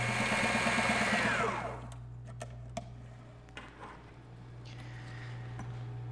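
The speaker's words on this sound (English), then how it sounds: "I'm getting the baffles sewn in, and I elected to start with the material in the machine" Sewing machine stitching baffles into sailboat material, running at a fast steady whir for almost two seconds and then stopping, followed by faint clicks and handling noises over a low constant hum.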